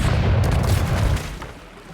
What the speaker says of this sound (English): Cannon crew, give him a broadside.